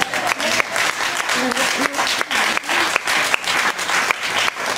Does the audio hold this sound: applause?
yes